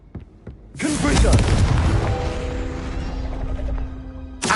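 Confringo fire spell exploding in Hogwarts Legacy, a deep booming blast that rolls into a long rumbling decay with a ringing tonal tail, preceded by faint clicks and cut off by another hit.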